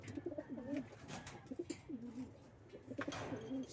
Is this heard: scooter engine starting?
no